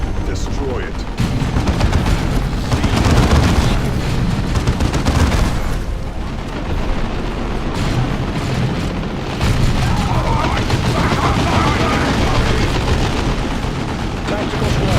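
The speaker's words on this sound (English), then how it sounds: "Orcs are firing on us!" Ork troops firing guns in Warhammer 40k Dawn of War 2, a loud, continuous barrage of gunfire mixed with booming impacts and mechanical clatter, with battlefield voices shouting over the din throughout.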